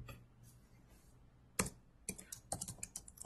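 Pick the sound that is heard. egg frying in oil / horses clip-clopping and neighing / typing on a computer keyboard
typing on a computer keyboard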